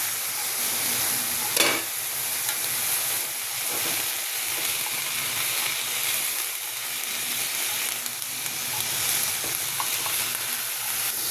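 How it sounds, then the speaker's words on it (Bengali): Leafy greens sizzle loudly in a pan of hot oil with panch phoron spices, salt, chilli powder and turmeric, a dense steady crackle and hiss with a sharper burst early on as they hit the pan, no voices over it. "পাঁচফোড়ন পুড়ে গেছে, শাকগুলো দিয়ে দেবো"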